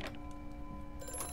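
An old telephone rings with a steady metallic bell tone throughout, under a low humming ambience, in the horror game Amnesia: A Machine for Pigs.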